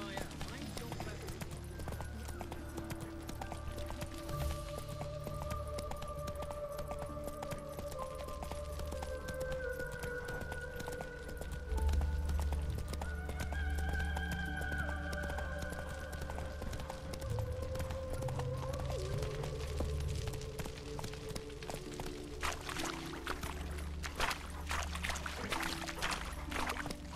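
Roach, Geralt's horse in The Witcher 3: Wild Hunt, galloping along a road, steady hoofbeats running under game music and a man's occasional spoken lines.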